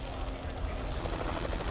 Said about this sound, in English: the chopper must fly dangerously close to the red-hot billowing ash cloud